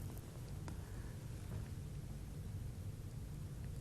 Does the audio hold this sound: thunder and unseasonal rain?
yes